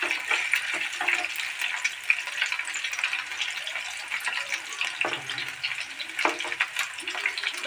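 Chicken pakora fry in oil in a flat frying pan, giving a steady, close sizzle that crackles and pops now and then. No one speaks over it.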